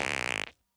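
A loud cartoon fart sound effect from the Family Guy series gives one rapid buzzing, fluttering blast lasting about half a second, then cuts off into silence.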